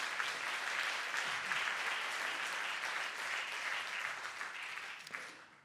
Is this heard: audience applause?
yes